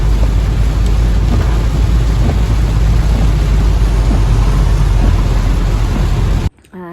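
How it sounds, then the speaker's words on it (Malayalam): Steady, heavy morning rain pours down in a dense, unbroken hiss with a low rumbling undertone, loud and close, before cutting off abruptly near the end. "മഴ തുടങ്ങി"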